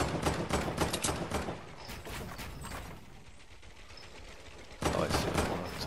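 Rapid automatic gunfire in a Fortnite match, dense bursts of shots close up that ease off in the middle and then return loud, with faint game sounds between.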